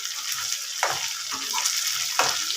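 Prawns frying in a pan while being cooked down for prawn pickle, a steady broadband sizzle with a few scraping stirs of the spatula standing out, close and continuous with no talking.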